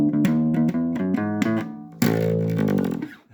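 Bass guitar plays a boogie turnaround, a few plucked note runs stepping along, then a louder struck note that slides and rings for a second before cutting off, close and alone.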